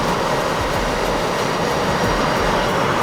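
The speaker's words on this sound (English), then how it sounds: "Flying Blue Angel number 4, the slot pilot from Valdosta, Georgia, Benjamin Razor Dudle" Blue Angels jet engines in the DCS World flight simulator roar as a loud, steady, broadband rush that holds without a break across the whole stretch.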